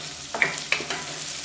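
Drumstick and potato pieces sauté in oil with a faint, steady sizzle, punctuated by two or three sharp clinks of a spatula stirring in the pan.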